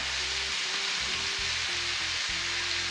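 Chopped onion frying in a pot for an Indian-style cashew chicken gives off a steady, bright sizzle throughout, with faint low knocks of stirring underneath.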